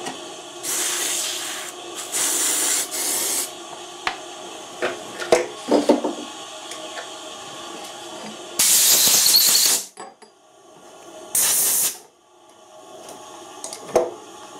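Solvent sprays from an aerosol can in four or five short, loud hissing bursts, with quiet clicks and handling noises in between. No one speaks.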